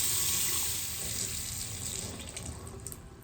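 Water rushing steadily from a home plumbing drain as pressure is released, a constant hissing flow that fades slightly toward the end.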